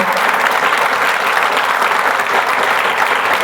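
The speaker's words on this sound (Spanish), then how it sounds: "Un aplauso, por favor" An audience at an inaugural conference lecture breaks into loud, dense applause, a continuous wash of many hands clapping at once, holding steady and full throughout.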